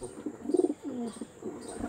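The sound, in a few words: Arshad line pigeon cooing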